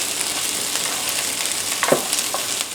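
Onions and daikon radish frying in a pan, a close steady sizzle with a few louder spatters and stirring scrapes near the end.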